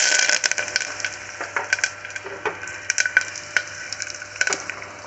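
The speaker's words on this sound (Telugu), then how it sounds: "ఇందులో ఇప్పుడు పోపు దినుసులు వేద్దామండి." Tempering spices with extra chana dal sizzle and crackle in hot oil inside a pressure cooker, a steady close frying hiss dotted with sharp pops and spatters throughout, with no talking.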